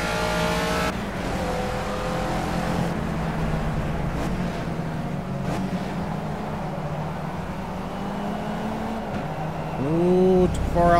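A Caterham race car in the Project Cars video game drives a lap on a circuit, its engine droning steadily with gear changes, then revving up sharply near the end.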